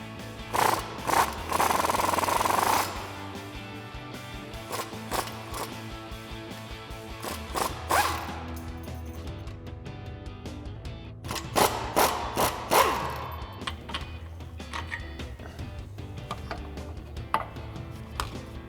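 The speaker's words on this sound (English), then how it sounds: "So we'll grab an 18mm socket to take those out." Ratchet and socket work on the steering stabilizer bolts of a Jeep Wrangler JL, with bursts of quick metallic ticking and clicks coming in clusters near the start, middle and end, close by with no talk.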